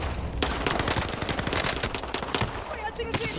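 Rapid automatic gunfire crackles through a Call of Duty Warzone match in a dense, continuous exchange of bursts and single shots, loud and close, with a voice faintly mixed in.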